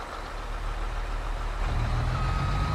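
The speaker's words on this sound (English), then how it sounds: "Reverse beep, hear that?" Reverse warning beep of a Fendt Katana 850 forage harvester in Farming Simulator 22, a steady tone over the machine's loud, constant engine drone.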